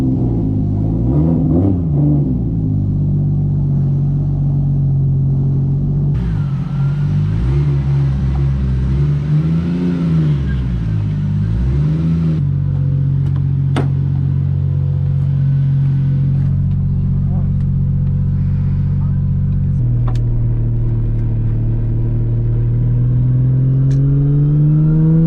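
A car with a 2JZGTE VVti engine, GTX35 turbo and E85 fuel drives along, its engine droning loud and close with repeated rises and falls in pitch as it revs through gears, steady cabin rumble underneath.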